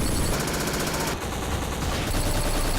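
Rapid automatic gunfire from the first-person shooter Black rattles loud and dense in continuous bursts, briefly dipping mid-way before resuming.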